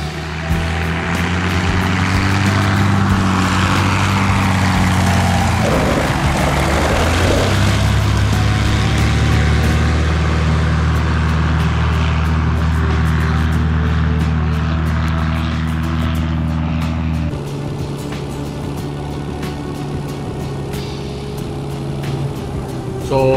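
Cessna 170B light propeller aircraft going around after an aborted approach to a short, narrow uphill landing strip, its engine droning loud and steady for over twenty seconds and shifting pitch as it climbs away.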